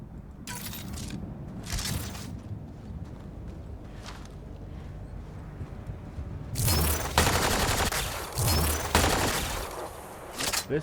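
A spin-up rifle in Mass Effect Andromeda, a sci-fi shooter video game, fires in short scattered bursts, then breaks into a dense, louder sustained stream of shots with a few closing cracks.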